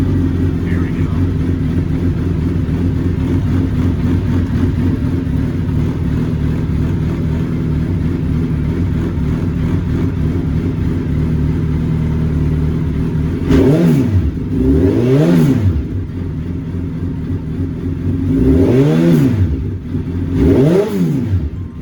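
A 2014 Suzuki GSX1300RA Hayabusa idles steadily, loud and close, then the engine is revved in four distinct rising and falling bursts.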